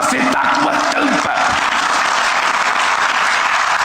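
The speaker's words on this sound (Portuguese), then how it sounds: "E as pessoas aplaudem" Steady crowd applause at a political event in Brazil, dense clapping holding at an even level for several seconds, with a few voices faintly mixed in at the start.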